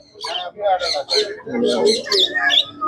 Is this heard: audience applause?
no